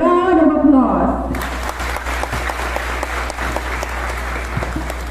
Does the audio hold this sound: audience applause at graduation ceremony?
yes